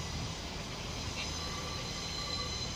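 A Class 185 train sits or moves slowly at Manchester Piccadilly station, a steady engine hum and rumble with a faint high squeal, moderately distant and continuous.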